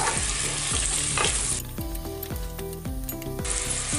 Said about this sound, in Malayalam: ഒരു 100 ഗ്രാം ഉള്ളിയാണ്, വലിയ ഉള്ളിയാണ് നമ്മൾ ഇതിലേക്ക് ഇട്ട് കൊടുക്കുന്നത്. നല്ലതുപോലെ ഇളക്കി കൊടുക്കാം.